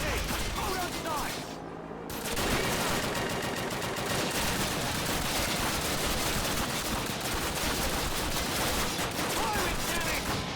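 Dense, continuous gunfire from the Call of Duty game during a chase past a German lorry, with rapid bursts layered over a constant roar of fire for the whole stretch, broken by a short lull near the start, and a voice talking at times.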